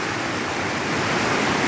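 Tad Nam Tek waterfall roars as a loud, dense, unbroken wash of rushing water, close and steady throughout with no voices.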